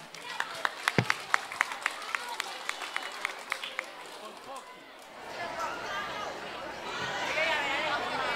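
Audience applause welcoming seventh grade performers at a school music recital: a few scattered, sharp claps at first, then swelling into dense, sustained clapping and crowd noise that fills the room.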